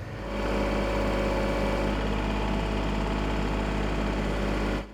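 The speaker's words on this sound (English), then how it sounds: "we were able to take the tractor out and get it off" A tractor fitted with pallet forks runs close by, its engine a steady, loud drone with a strong low hum that holds even and then cuts off at the end.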